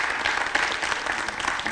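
A crowd applauds at an evening community gathering, a steady, dense wash of clapping filling the room without a break for nearly two seconds.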